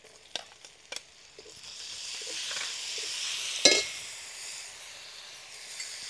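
Tomatoes drop into a pan of frying golden onions and ginger-garlic paste: a few clinks of a utensil, then a rising sizzle that swells into a sharp hiss with a clatter before settling into a softer steady fry.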